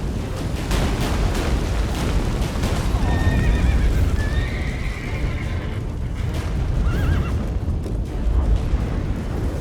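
Horse in The Witcher 3 video game whinnying amid a dense, rumbling battle soundscape, with hoofbeats clopping underneath and loud low booms throughout.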